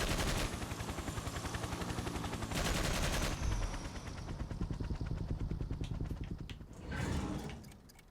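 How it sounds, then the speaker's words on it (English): Rapid, rhythmic machine gun fire from the Toy Soldiers: Cold War video game on Xbox, with loud sustained bursts of evenly spaced shots that pause briefly and then resume. "machine gun."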